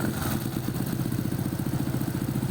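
A Honda XRM 125 motorcycle engine fitted with a 57mm bore kit and C5 head runs at a steady idle, a close, even mechanical putter with light clatter and no talk over it.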